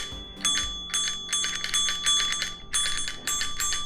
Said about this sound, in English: this, which is my bell hammer, and it actually works pretty well by hand